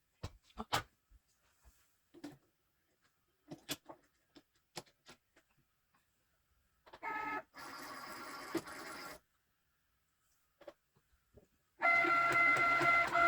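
A Cricut cutting machine fitted with a scoring stylus gives scattered light clicks and ticks, then two sustained bursts of mechanical whirring as the carriage moves.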